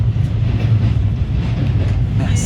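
Maitree Express passenger train on the Kolkata to Dhaka run, heard from inside a carriage near the Hardinge Bridge over the Padma River, giving a loud, steady low rumble with faint rhythmic clatter throughout.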